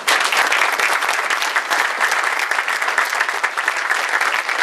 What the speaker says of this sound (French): Je crois qu'on peut vraiment les applaudir également